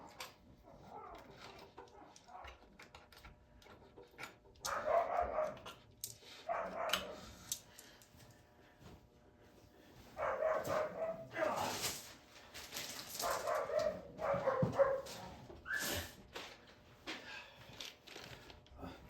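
Dogs bark and yip in several short bursts during nonstop play indoors, moderately near, with quieter gaps between the outbursts.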